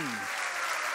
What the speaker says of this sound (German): Und Ihr Applaus